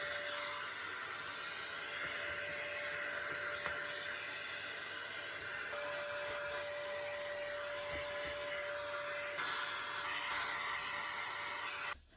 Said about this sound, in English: Let's get the little vacuum on it.